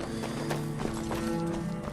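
Quick clip-clop of a horse's hooves in Skyrim, a short run of close hoofbeats over a busy game backdrop.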